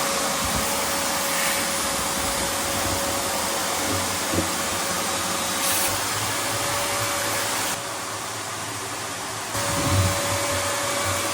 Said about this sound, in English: So I think the first thing is to vacuum out and clean that out a little bit.